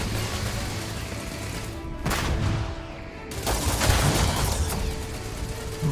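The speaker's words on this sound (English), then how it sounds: "The number of turrets in here is insane" Automated turrets fire guns in the sci-fi game Starfield, producing dense, continuous gunfire with sharp bursts around the second and third seconds, loud and close throughout.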